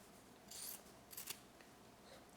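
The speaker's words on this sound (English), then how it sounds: "I'm gonna grab my scissors and cut across." Scissors cutting across folded fabric for a face mask, two quiet crisp snipping strokes close by, faint and alone.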